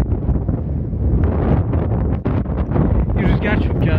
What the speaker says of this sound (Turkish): Rüzgar çok ya.